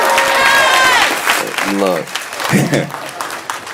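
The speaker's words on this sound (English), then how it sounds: "y'all cheer" Studio audience at a late-night comedy show cheering and applauding, a broad roar that swells then fades while a comedian's voice speaks over it.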